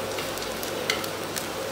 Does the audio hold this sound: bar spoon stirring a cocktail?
no